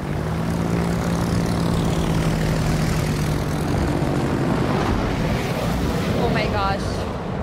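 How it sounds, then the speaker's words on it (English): Torpedo bomber aircraft fly in World of Warships, a steady propeller drone over ocean wash and game sounds, while a voice talks over it. "we're gonna use our torpedo bombers again"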